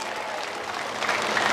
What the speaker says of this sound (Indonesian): Tepuk tangan kita sudah.